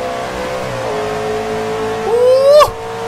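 Car engine accelerating in the racing video game Forza Horizon 2, a fast car driven out onto the road, with a steady mid-pitched drone that climbs sharply into a loud rising rev before cutting off abruptly.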